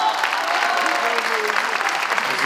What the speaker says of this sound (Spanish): Fuerte y cariñoso el aplauso para ella.